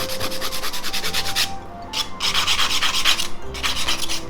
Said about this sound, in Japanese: じゃあだいたい固まったので削ります。